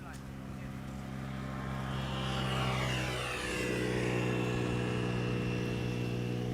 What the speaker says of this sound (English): E2 Embraer to Copenhagen coming this way.